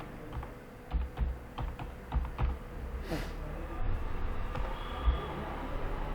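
Someone types on a computer keyboard, giving a scattered run of clicky keystrokes with brief pauses and a few heavier key presses, heard at close range over a faint background hum.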